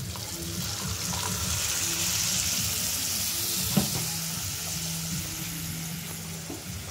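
Ground spice masala with a little water fries in a pan, giving a steady close sizzle and crackle throughout, with a brief clatter partway through and no voices.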